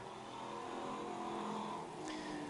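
A race car thunders down the front stretch at Lakeside Speedway, its engine a steady, fairly loud drone that holds for a couple of seconds with no voices over it.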